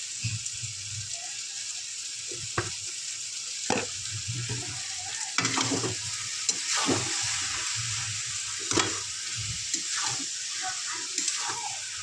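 A spoon stirs banana flower and prawn curry frying in oil in a pan. A steady hiss of sizzling runs throughout, broken by repeated scrapes and clacks of the spoon against the pan, close up and with no voices.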